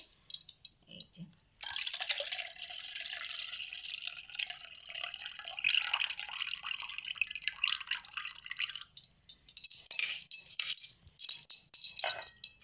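Soaked biuli (urad) dal being rinsed in water in a kitchen: a steady swishing, dripping wash with running water from a tap, occasional clinks of a bowl, brief pause near the start, close and moderately loud with no talking.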